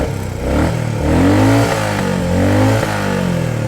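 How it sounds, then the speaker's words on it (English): A motorcycle engine, smooth-running with its tachometer removed, revs twice in loud close bursts, the pitch climbing and falling each time over a steady idle. "Let's rev it."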